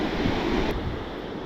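Sea waves wash against a rocky coastline with a steady roaring surf and wind noise on the microphone, close and loud.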